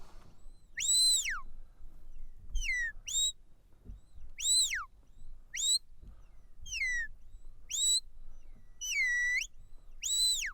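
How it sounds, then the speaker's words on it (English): A shepherd's stop and flank whistles at a sheepdog trial: a series of about ten sharp, high whistled calls, some sweeping down and some in quick double bursts, clear over a quiet open-air background. "then a stop whistle, flank whistle, stop whistle, just so they trot"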